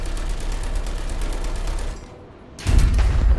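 Rapid bursts of tank machine gun fire in War Thunder, a steady loud rattling stream that breaks off into a brief lull before a heavier, deeper burst resumes, with no talking.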